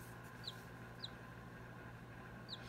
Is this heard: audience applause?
no